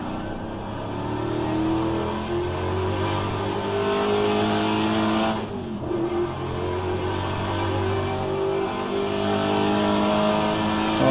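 A loud car engine revs steadily and close by at Mont Tremblant, its pitch rising and falling throughout with a brief dip midway and no talk.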